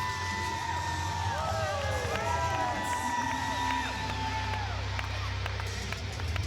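Wrestling arena crowd at a women's match roars steadily with cheers, whoops and shouts, a dense continuous wall of crowd noise with a commentator's voice faintly under it.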